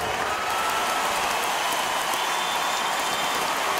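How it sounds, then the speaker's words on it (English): A loud ovation from the crowd at a Lakers basketball game, steady dense cheering and clapping filling the arena without a break. "The ovation."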